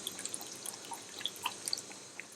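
Water is poured into a cooking bowl, heard as scattered light drips and splashes, fairly faint and close, without a steady stream.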